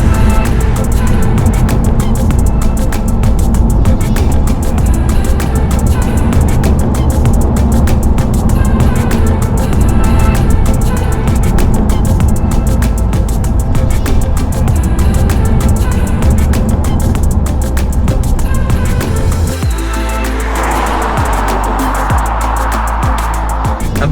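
A BMW 1 Series driven on national speed limit roads, heard from inside: a constant loud engine and road drone with tyre rumble throughout, shifting in tone near the end.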